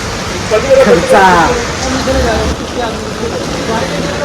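Heavy rain pours steadily, a dense broadband hiss that fills the scene around a car just back from repair, with brief faint voices and vehicle noise mixed in.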